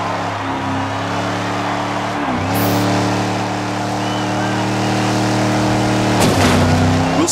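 Race cars from the Cars 3 video game roar steadily with layered engine tones, a sharp whoosh as one speeds past midway and another surge near the end, loud and continuous throughout.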